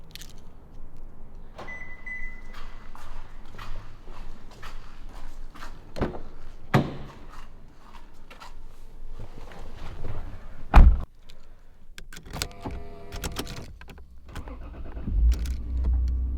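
A twin-turbo 2JZ Toyota Aristo sedan: a car door thumps shut amid cabin clicks and rustling, then the engine cranks and catches into a low rumble near the end.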